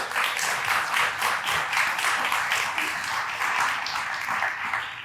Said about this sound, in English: A round of applause for those groups.